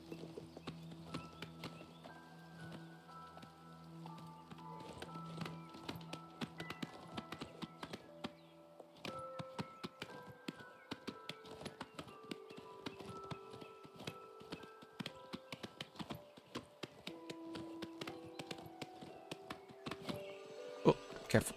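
A horse in a video game clip-clops along in a steady stream of hoofbeats over sustained background music tones.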